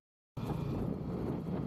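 Strong wind buffets the microphone in a steady, loud roar after a short silence, recorded outdoors in the province on a northern road trip toward Pagudpud.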